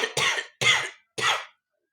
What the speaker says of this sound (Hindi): ये थोड़ी खांसी हो गई